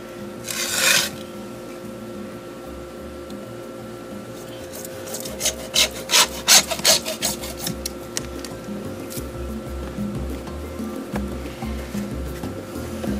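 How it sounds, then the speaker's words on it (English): Burrs being cleaned off freshly cut plastic sprinkler pipe by hand, producing faint dry rasping and rubbing with a brief scratchy burst near the start and a cluster of sharper scrapes in the middle, over a steady low hum. "Clean off the burrs, the plastic pieces will get stuck inside your system."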